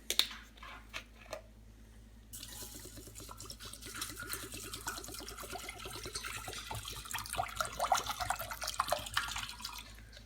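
Distilled white vinegar pours steadily from a 32-ounce bottle into a pickle jar after bay leaves, a continuous liquid splash and trickle that starts after a quiet moment and grows louder.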